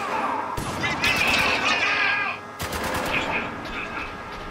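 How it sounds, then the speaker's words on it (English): Gunfire bursts out in the video game Spec Ops: The Line as a dying enemy fires his weapon, two loud rapid volleys of shots separated by a brief lull, with crackling impacts between them. "why is he randomly firing as he's dying and stuff?"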